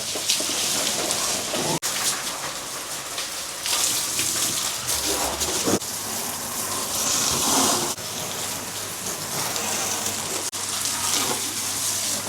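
Water sprays steadily onto a Mahindra Thar during washing, a continuous hissing splash that shifts in intensity as the stream moves over the vehicle, with brief interruptions.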